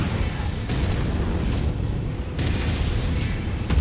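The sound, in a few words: enemy mech being destroyed in MechWarrior 5 video game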